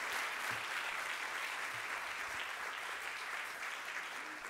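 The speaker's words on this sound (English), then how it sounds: "A big hand of applause to the graduating students." A 2019 graduation ceremony audience gives graduating students a long, even round of applause. The clapping is dense and sustained throughout, heard from within the hall with no talk over it.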